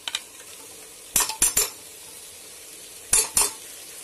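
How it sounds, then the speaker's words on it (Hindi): Green chillies, ginger and garlic fry with keema in a pan under a soft, steady sizzle, broken by about five sharp metal clinks of a spoon stirring against the pan in two short bursts. "इसे भी हम हल्का सा फ्राई कर लेते हैं अच्छे से"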